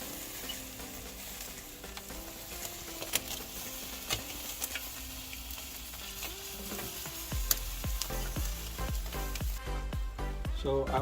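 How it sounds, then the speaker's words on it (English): Octopus sizzling on a grill while being basted with olive oil, salted butter and thyme, a close, steady crackle and spit with scattered pops that grows busier and denser toward the end. "baste it while it's getting a grill."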